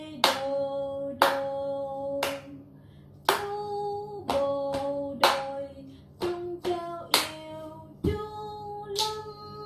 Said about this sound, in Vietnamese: Phần vỗ tay theo phách